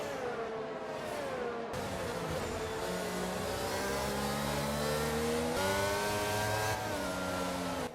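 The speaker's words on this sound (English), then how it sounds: "of cars in the background that are just queuing up to overtake as we are stricken with that sick gearbox" Race cars in F1 22 at the Dutch Grand Prix lining up to overtake a car with a failing gearbox: loud, steady engine whine with rising and shifting revs as several cars close in and pass.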